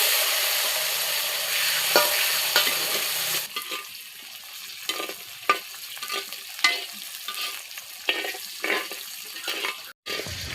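Garlic and onions fry in a pan. A loud hiss comes first, then calmer sizzling with scattered spoon scrapes and clinks, close up with no speech.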